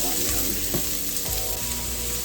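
Onions sautéing in a pan for a beef cow foot stew, a steady close sizzle with a couple of faint knocks from stirring.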